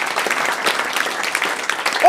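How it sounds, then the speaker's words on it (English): A comedy club audience at Komedia applauds the venue staff, a steady wash of clapping that stays even throughout and ends with a brief tonal sound. "could you please just give a round of applause to all the people at Komedia?"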